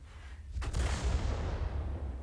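A single artillery gun shot from a video game, one deep booming discharge followed by a long rumbling decay, loud and alone without talk.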